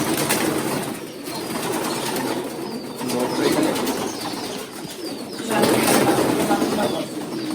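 Pigeons at a pigeon farm coo in low, soft bursts amid bouts of wing flapping and rustling, with many birds close by.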